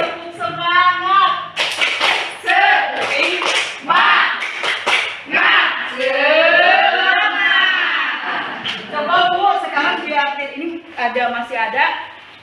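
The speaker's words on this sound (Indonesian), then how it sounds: "Coba tepuk semangat." A group of schoolchildren performs a rhythmic spirit clap at a teacher's prompt, sharp hand claps in patterned bursts mixed with loud, chanted group voices, close and lively.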